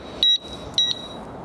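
An electric bike's lock alarm sounds two short, high double beeps spaced about half a second apart over quiet background noise.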